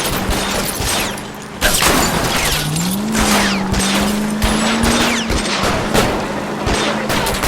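Repeated gunshots crackle over a roaring engine and road noise as shooters fire at a car's tires during a chase in the video game L.A. Noire, with a steady engine hum rising in pitch mid-pursuit.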